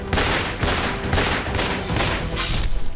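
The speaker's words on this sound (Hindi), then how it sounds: "धाए धाए से दहली राजधानी, 16 राउंड से ज्यादा फायरिंग।" Rapid gunfire from a street shootout in Gokulpuri, Delhi, more than 16 rounds fired, heard as a dense, continuous volley of sharp cracks with recurring bursts and no pause across the whole stretch.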